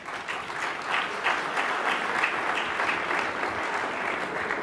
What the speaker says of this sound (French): Nous autres, on l'applaudit, s'il vous plaît.